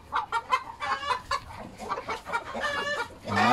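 A large mottled Orpington rooster clucks in a run of close, repeated calls, with a louder, rising call at the very end.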